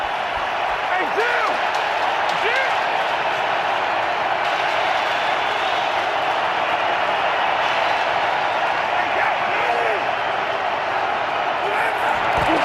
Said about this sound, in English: Saints have to deal with the crowd noise again.